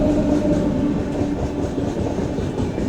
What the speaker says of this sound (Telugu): చూసారా ఎవరు వస్తున్నారు? India's longest train Vivek express, Kanyakumari Dibrugarh,